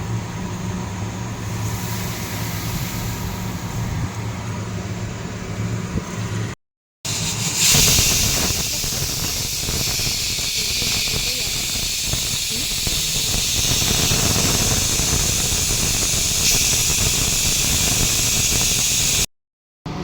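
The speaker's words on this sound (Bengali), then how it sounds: "দুধও ফুটে গেল।" Milk boils in a pot on a home stove, giving a steady, loud hiss and seething rush that fills the whole stretch, broken by two brief dropouts.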